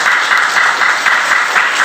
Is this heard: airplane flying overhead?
no